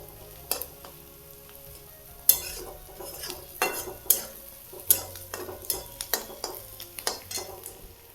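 Curry leaves dropped into hot oil for a Maharashtrian dal kanda (pendpala bhaji), a soft sizzle under repeated scrapes and clinks of a spoon stirring in a metal pan, close and fairly quiet.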